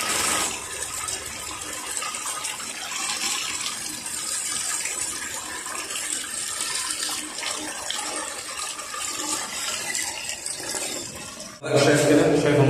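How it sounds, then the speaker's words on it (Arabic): Water gushes steadily into an underground water tank, a loud continuous rushing hiss that cuts off abruptly near the end, followed by a brief different sound. "ما زال الخزان بيتعبى ميه اوتوماتيك لوحده من الخارج"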